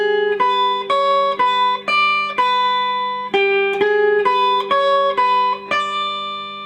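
Solo guitar picks out the opening two phrases of a song as a clear, steady run of single notes with ringing sustain, played alone at close range.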